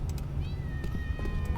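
A cat in the Tales of the Neon Sea video game gives a short, clear meow over a low, steady ambient background.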